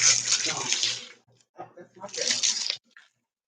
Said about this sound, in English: I gotta wash this off first.